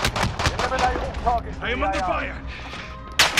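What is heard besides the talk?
gunfire in video game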